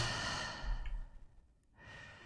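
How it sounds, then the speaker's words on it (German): A heavy, drawn-out breath from a text adventure game, a long airy exhale that fades into a short pause before a softer breath returns. "Sehr heftiges Atemgeräusch."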